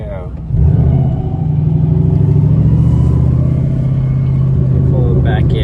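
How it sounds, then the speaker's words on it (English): A 2003 Ford Mustang Mach 1 V8 revs up sharply from a quiet start into a loud, close, sustained roar that holds at high revs, with some talk in the background. "there's some kids over here trying to get us to give them a little rev"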